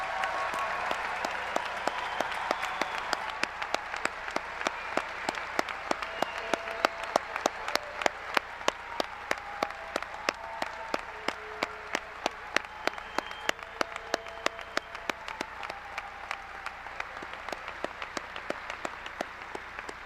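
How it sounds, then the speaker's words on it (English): A graduation crowd applauds the graduating seniors as they take their seats at Blue Valley West's 2016 ceremony, with sustained, even clapping from a large audience that runs for about twenty seconds without letting up. "let's give them a round of applause."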